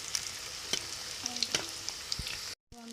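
Fritters (boras) sizzling in hot oil in a pan, a steady close frying hiss with a few soft clinks of turning, a brief silent gap near the end, and no talk.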